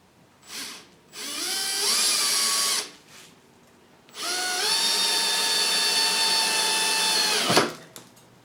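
A power drill whirs up to speed in two long bursts, whining loudly and steadily as it bores into metal, with brief pauses between.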